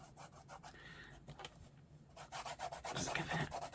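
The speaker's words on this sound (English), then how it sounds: "Just give it a good rub." Paper pocket glued onto a botanical lapbook journal being rubbed down by hand, giving close rhythmic dry rasping strokes that grow louder and faster toward the end, no voices.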